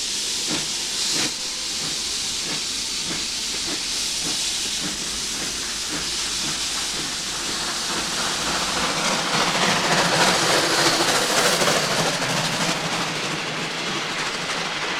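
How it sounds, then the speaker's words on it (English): A preserved standard gauge steam locomotive on the Severn Valley Railway runs steadily with loud continuous hissing steam and rhythmic chuffing, close and filling the scene, with no talk. "With 16 miles of track and more standard gauge engines than any other preserved railway, the Severn Valley is a vivid reminder of those great days of steam."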